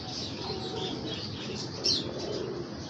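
Pigeons flap their wings in a brief flurry close by, a soft papery fluttering over faint ambient hiss, with one sharper burst near the middle.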